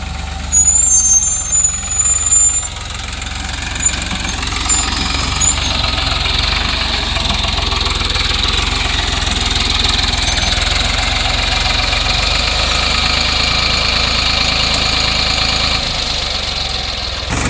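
A tractor engine rumbles steadily up close in a sugarcane field during hoeing, a low continuous drone with rough knocking, briefly joined by a high whine and clatter at the start.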